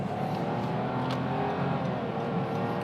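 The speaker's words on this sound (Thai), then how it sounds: "โอเคครับว่าลองอัตราเร่งนะ" A 2021 Honda City 1.0 turbo hatchback accelerating hard, with a steady, full engine and road roar heard from inside the cabin.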